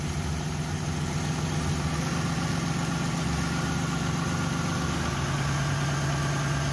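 A car engine with a six-cylinder Century distributor idles steadily after a timing adjustment, a continuous close mechanical hum and rumble with no talk.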